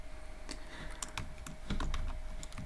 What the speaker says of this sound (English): Else I'm gonna type message box